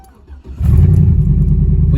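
A pickup truck with its check engine light on cranks briefly and catches, settling into a loud, steady low engine rumble up close.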